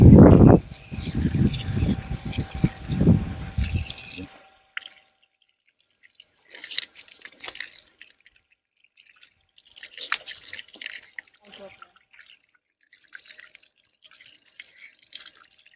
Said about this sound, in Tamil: பூரா எல்லா மரத்துக்கும் தண்ணி போகுதுங்க